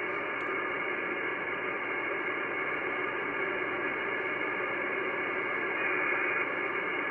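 An Icom IC-9700 transceiver with a mast-mounted preamp switched on receives the IO-117 satellite, giving a steady, loud wash of radio hiss and static with no clear voice rising above it.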